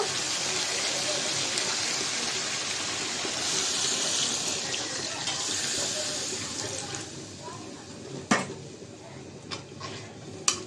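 Water pours steadily into a pot of spicy beef curry with ash gourd and potato, a continuous rushing stream that stops, followed by a few sharp clinks of a lid or utensil.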